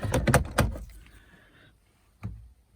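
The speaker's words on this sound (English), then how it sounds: "and close the door" Two heavy thumps of a car door being shut, with rattling and a mechanical whir between them, then a final solid thud.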